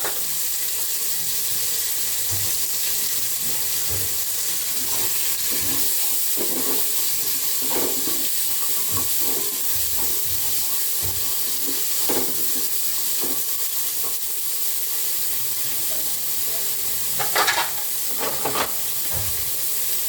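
Onions for an omena sardine dish fry in a pot under a continuous steamy hiss, with occasional scrapes and knocks of a wooden cooking stick stirring them.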